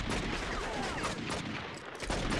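Rapid overlapping gunfire in the True Crime: New York video game, a dense continuous fusillade of shots in a street shootout, loud and sustained with no pauses.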